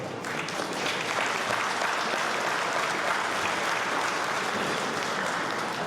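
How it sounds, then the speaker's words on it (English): Steady audience applause fills the hall at a mayor's charity fund gala, a continuous wash of many hands clapping at even loudness throughout. "They deserve your round of applause and approval because they're doing great work."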